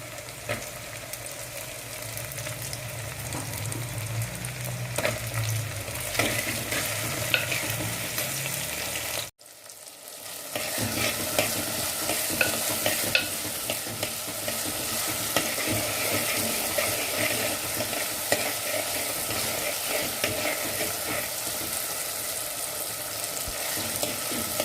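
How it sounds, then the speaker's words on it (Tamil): Eggplant cooks in plenty of oil for ennai kathirikai kulambu with a steady close sizzle, a short pause, then louder frying with occasional stirring clatter and no voices. "கத்திரிக்காவை எண்ணெயிலேயே நல்லா வதங்கணும்."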